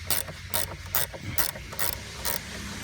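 A ratchet loosens a car battery terminal nut on a 2018 Jeep Cherokee in quick bursts of clicking strokes, each burst separated by a short pause, close and fairly loud.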